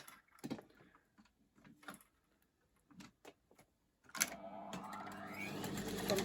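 A sewing machine stitches elastic onto the side seam of trousers being remade from an oversized dress, starting after a few scattered handling clicks and running steadily and close for the last couple of seconds.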